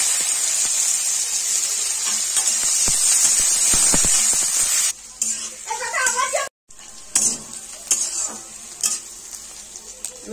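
Sliced ivy gourd goes into hot oil already seasoned with a dried red chili and black cumin. A loud, close sizzle and spatter fades into quieter crackling frying with brief stirring scrapes.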